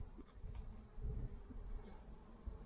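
Honeybees buzzing around an opened hive frame during a colony split, a soft, steady hum with occasional closer wingbeats passing by, fairly faint and without speech.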